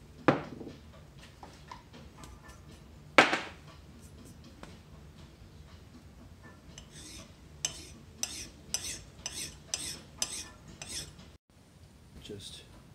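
A hand file scrapes across the old steel of an antique Hults Bruk Norrbottens axe in a run of quick, rhythmic strokes, after a couple of sharp knocks, close and fairly quiet.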